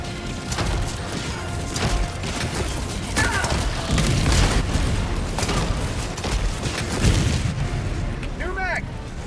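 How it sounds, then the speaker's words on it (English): Orbital strike explosions rumble and boom repeatedly in the Helldivers video game, deep blasts layered with gunfire and game effects while players talk over the action. "Calling in orbital strike."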